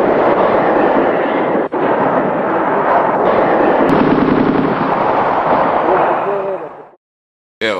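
Artillery fire from howitzer shelling during wartime near a hospital in Pakrac, heard as a dense, continuous roar of rumbling bursts and blasts that carries loud and unbroken for about seven seconds before cutting to silence.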